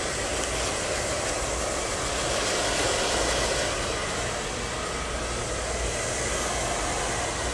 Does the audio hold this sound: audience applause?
no